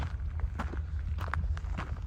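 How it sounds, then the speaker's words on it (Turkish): Footsteps on a path above rocks on the deserted island of Sivriada near Istanbul, a steady walking rhythm of close crunching steps over a constant low background wash, with no talk. "benim ayak seslerimden ve dalga seslerinden başka bir ses yok burada"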